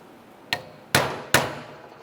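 Three sharp metallic hammer strikes on a pin in a 2001-2005 Ford Explorer Sport Trac steering column, one lighter tap followed by two louder blows about half a second apart, each ringing briefly before fading.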